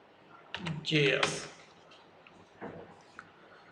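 Short bursts of keystrokes on a computer keyboard while a node command is typed to run a main.js program, close and fairly quiet, with two brief flurries of clicks separated by a pause.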